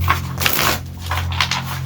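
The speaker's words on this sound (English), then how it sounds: "I'll shuffle some more." A deck of tarot cards being shuffled by hand up close, with quick riffling and sliding bursts in short uneven clusters over a low steady background hum.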